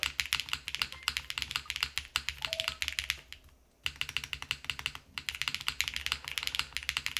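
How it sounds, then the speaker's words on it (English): Quick, steady clacking of a Wuque Paper80 mechanical keyboard with a GMK space bar being typed on, close and crisp, with a short pause partway through. "let's actually just try a different space bar for the time being. Does that sound different to you guys, the GMK one?"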